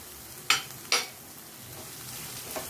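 Masala for a tiger prawn gravy fries in oil in a pan, a soft low sizzle broken by two sharp stirring scrapes early on and a fainter one near the end, close with no talk.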